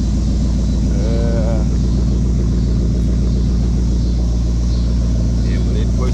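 A car engine idles steadily with a loud, close, low rumble, while people talk nearby.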